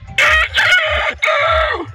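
A rooster crows loudly and close by, two drawn-out calls with a short break between them, and no other sound around them.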